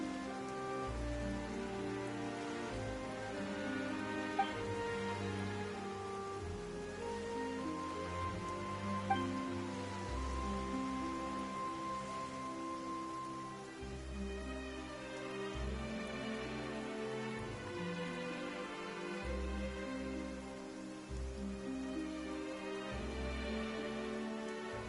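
Steady rain falls in Genshin Impact, a continuous hiss of drops spread evenly across the whole stretch, layered with a full orchestral game score that plays throughout with no voices.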